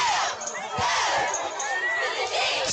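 Crowd noise at a Thursday night high school football game, Livonia at Catholic PC, a broad steady roar of many voices with shouts and cheers rising and falling throughout, fairly loud and continuous.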